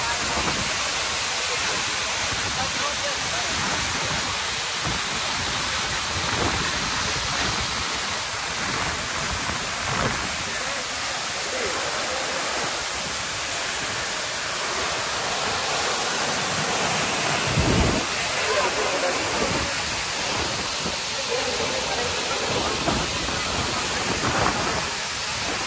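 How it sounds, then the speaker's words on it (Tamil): Palaruvi waterfall pours in a steady, loud, close rush of falling water that continues without a break, with no clear voices over it. "ஸோ இப்போ நீங்கள் வந்து அருவியை பார்த்து என்ஜாய் பண்ணுங்கள் ஃபுல்லாக."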